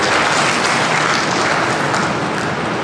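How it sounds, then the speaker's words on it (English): Steady, dense applause from a large audience at a school debate competition, loud and continuous throughout with no voices breaking through. "Can we have a round of applause for both our participants?"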